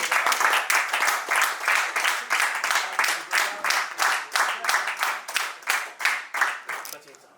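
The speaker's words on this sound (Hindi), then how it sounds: "देख ताली" A crowd at a reunion gathering claps in steady, rhythmic unison, loud and close, slowing slightly before fading at the end.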